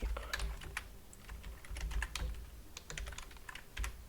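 Quiet, close typing on a computer keyboard as a database password is entered, with irregular key clicks in short bursts and a few louder taps.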